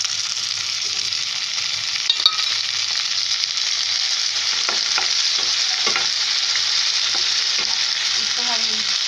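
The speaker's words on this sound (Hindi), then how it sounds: "इसको हम एक मिनट फ्राई करेंगे" Chopped tomatoes fry in a pan for santula, an Oriya mixed vegetable dish, giving a steady loud sizzle throughout with a few faint metal clinks of stirring.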